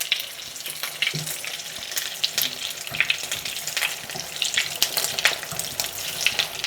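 Shami kebabs sizzle steadily in a hot pan, a close crackling spatter with scattered louder pops throughout, no one talking.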